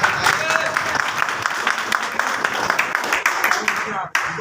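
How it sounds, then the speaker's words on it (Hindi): Applause from an audience at a business income-recognition training event, sustained and dense for several seconds under an announcer's voice, then cutting off briefly near the end. "कभी तालियां तो ज़्यादा होनी चाहिए।"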